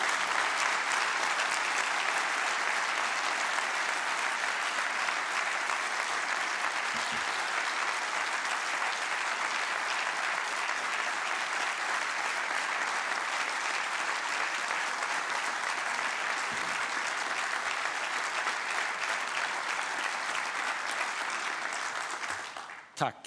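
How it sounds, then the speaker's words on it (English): Sustained, dense applause fills the Swedish parliament chamber at the 2024 opening of parliament attended by King Carl XVI Gustaf, holding steady for over twenty seconds before fading out abruptly. "And that round of applause goes to the Ukraine."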